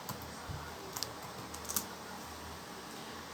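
Soft, sparse keystrokes tap on a computer keyboard, a few quiet clicks scattered over a faint background hum with no talking.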